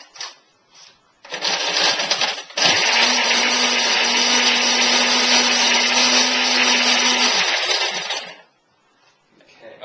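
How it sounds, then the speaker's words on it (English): A blender whirs loudly for several seconds, grinding and rattling hard hazelnuts, preceded by a couple of short bursts. "Just give them a little blip in the blender"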